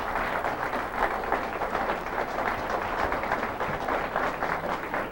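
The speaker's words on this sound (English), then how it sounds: "Let's give Gene a round of applause." A high school academic quiz bowl audience at the 1995 Governor's Academic Competition gives a round of applause for a contestant, a sustained, even wash of clapping from a sizable crowd.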